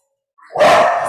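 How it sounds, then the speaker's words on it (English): A dog lets out a single loud, close bark that swells from quiet and holds briefly, alone without any talking over it. "dog was saying hello to everyone"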